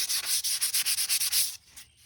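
Hand sanding painted wooden star pieces for a patriotic craft: about a dozen quick, close back-and-forth rasping strokes in a steady rhythm, then the scraping stops and only faint, quiet handling noise follows.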